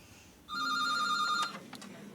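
A telephone rings in a basement storeroom in a game set inside BBC Television Centre, one clear electronic bell burst of about a second, then a few fainter trailing clicks over quiet room tone.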